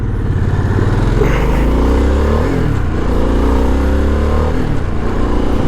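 Loud engine and exhaust of a 2022 Harley-Davidson Sportster S heard while riding, a low rumbling drone rising and falling as the rider rolls the throttle, with shifting pitch sweeps near the middle and no talk.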